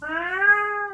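A house cat gives one drawn-out, whiny meow lasting about a second, close and clear with no other sound around it.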